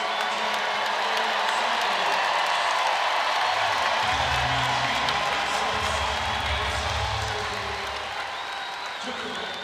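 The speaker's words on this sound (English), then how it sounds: "a big round of applause coming here for Malia Samuels coming back into the game" A crowd applauds and cheers throughout at a women's college basketball game, USC vs. Mississippi State, a steady wash of clapping filling the arena, with an announcer talking over it.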